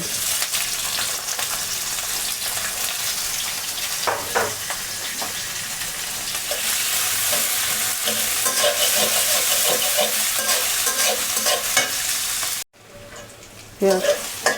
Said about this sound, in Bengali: কিছুক্ষণ নাড়াচাড়া দিয়েছে, একটু ভাজা ভাজা হয়েছে।